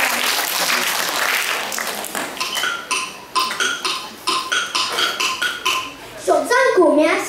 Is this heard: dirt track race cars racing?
no